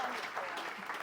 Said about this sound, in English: How about another round of applause for Mary Kay?